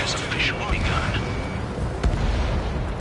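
Anti-aircraft fire and explosions rumble in Ace Combat 7, dense low booms and bursts under radio chatter, with one sharp blast near the end.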